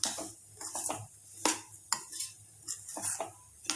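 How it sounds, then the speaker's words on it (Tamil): Rava laddu mixture being stirred in a pan: repeated scraping strokes and sharp metallic taps of a spoon against the pan in an uneven rhythm, close and fairly quiet, with no talking. "ஒரு 10 நிமிஷம் இதை நல்லா கிண்டி விட்டுருங்க"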